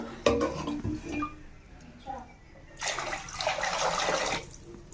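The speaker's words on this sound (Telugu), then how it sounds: "రెండు బౌల్లో వాటర్ వేసుకొని వాస వాటర్ని బాగా మరిగించుకోవాలి" Water is poured into a cooking pot for bagara rice, a rushing splash that starts mid-clip and runs steadily for about two seconds after quieter kitchen clatter.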